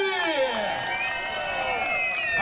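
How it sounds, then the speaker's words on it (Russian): An outdoor audience at a concert in a city park cheers, whoops and shouts in a steady wash of many voices, with light clapping mixed in throughout. "Аплодисменты!"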